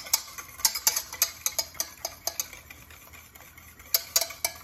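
Mayonnaise whisked by hand in a bowl, bright metallic clicks and scrapes repeating in quick irregular bursts, close and fairly quiet, with a brief pause midway before the whisking resumes.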